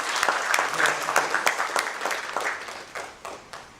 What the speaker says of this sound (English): So congratulate and give a big round of applause to the all authority of